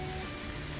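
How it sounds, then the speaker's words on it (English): Steady rainfall makes an even, dense hiss of drops on a surface, constant and close throughout the short moment with no talking. "R for rain."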